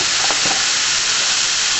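Marinated beef hitting a hot frying pan for a ginger stir-fry, a loud, steady close sizzle and hiss with faint stirring clatter.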